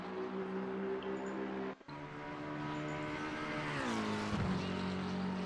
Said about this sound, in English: Cobb now coming up towards Parabolica and the 777 McLaren.